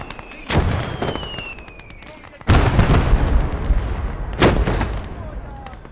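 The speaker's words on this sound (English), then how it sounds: "Here comes a heavy mortar." Heavy mortar fire in the video game Blood Red Snow: two loud, deep blasts land a couple of seconds apart amid ongoing battle noise, with voices talking underneath.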